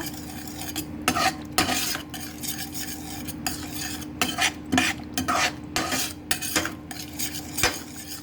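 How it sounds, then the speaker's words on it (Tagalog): A chicken dish being stirred in a pot, with repeated close scraping and clinking of a utensil against the metal in an uneven rhythm, no voices. "Halo-haloin na natin ito"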